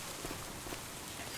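Rain falls steadily on a farm as a dense, even hiss with no distinct drops, close and constant.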